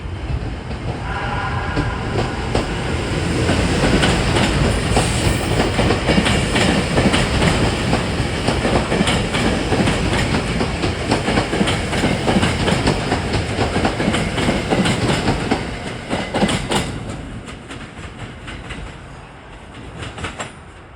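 A SEPTA commuter train rumbles steadily past nearby at Wayne Junction, Philadelphia, with rhythmic wheel clatter over the rails, loud and sustained, fading slightly near the end.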